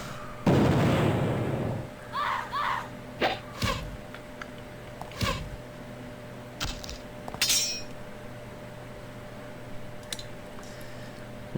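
A fire spell attack in the video game Exile 3 plays as a string of short, loud synthetic bursts and whooshes, spaced irregularly, with crackling, clinking effects between them and no talking.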